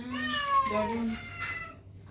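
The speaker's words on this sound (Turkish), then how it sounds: "Bunlar da değişik değişik kediler gelmiş." A street cat gives a couple of drawn-out, wavering meows, close by, with a second cat's higher cries overlapping, then the sound fades out.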